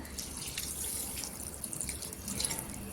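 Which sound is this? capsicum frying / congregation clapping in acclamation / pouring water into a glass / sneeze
pouring water into a glass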